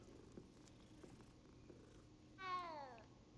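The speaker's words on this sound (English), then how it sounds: "You got to pet the cat." A cat in the video game Hogwarts Legacy purrs softly while being petted, a low, quiet rumble, then gives one short, rising meow near the end, with no talking.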